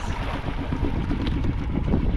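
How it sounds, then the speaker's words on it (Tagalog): Strong wind blowing across an open outdoor spot in the early morning hours, a steady loud rushing roar that buffets the microphone throughout, with no voices. "medyo malakas ang hangin dito"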